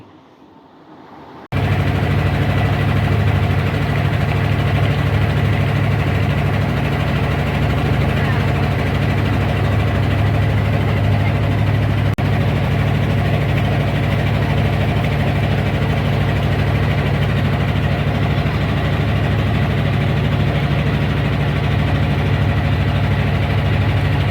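A fishing trawler's engine drones steadily and loudly in the Sundarbans, with a low, constant idling rumble that starts abruptly and runs without a break.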